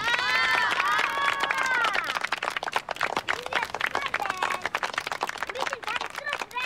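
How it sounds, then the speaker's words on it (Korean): A sports team applauds together in an indoor space, opening with loud cheers and whoops, then settling into sharp, rapid clapping that continues steadily to the end. "다 같이 큰 소리로 박수 한번 쳐주라."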